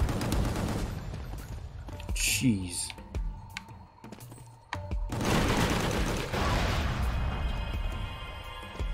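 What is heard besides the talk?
hand cannon gunfire in the video game Gungrave GORE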